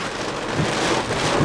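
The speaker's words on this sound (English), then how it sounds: "It is raining." Heavy rain pelting a car on a highway drive through a tornado-warned storm between Texas and Tennessee, a dense continuous hiss of drops drumming close on the roof and glass, steady and loud throughout.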